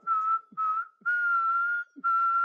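A person whistles a steady, clear tone in four sustained phrases separated by short gaps, close and alone with no talk.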